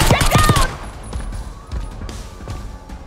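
Enemy gunfire in Black Ops 6, a fast volley of loud close shots at the start followed by softer, intermittent distant shooting under background game ambience.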